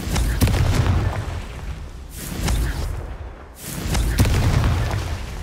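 Confringo fire spell blasts in the video game Hogwarts Legacy burst out as several loud fiery booms with crackling pops, coming in waves with a brief lull in the middle.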